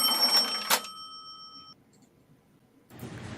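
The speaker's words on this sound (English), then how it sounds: "Time for a cash register." A cash register sound effect rings out with a bright metallic ding that hangs and fades, after a short burst of clatter and then a brief quiet gap.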